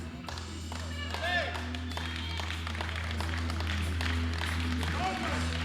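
Swedish crowd at a world equipped powerlifting championship in the 74 kg class, applauding and clapping steadily in a large hall, rising slightly, with a commentator's voice talking over it.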